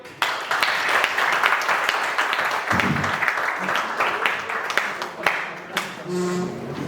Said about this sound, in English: Please applaud for them.